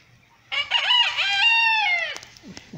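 An old free-range hen, first offspring of a golden Polish rooster and a caipira hen, gives a single loud, drawn-out call lasting about a second and a half, close by and alone.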